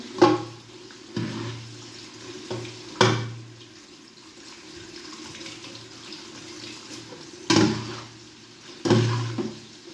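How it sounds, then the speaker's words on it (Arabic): Boiled pasta is drained in a colander, with repeated bursts of pouring water splashing and gurgling at intervals, each tapering off between pours, close and fairly loud. "تصفي المكرونه كده"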